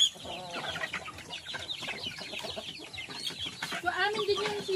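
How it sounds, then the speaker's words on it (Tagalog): Chickens cluck and chatter on a Philippine farm, several birds close by in a steady busy stream of short calls, with voices talking faintly underneath. "Yung manok ni Coco, wala nang initlog"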